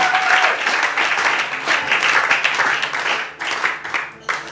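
A church congregation claps loudly and steadily, rising and falling in waves with some cheering mixed in, a dense crowd sound that dips briefly near the end.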